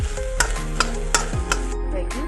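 Garlic and curry leaves fry in coconut oil with a steady close sizzle, while a utensil scrapes the pan in regular stirring strokes about every half second.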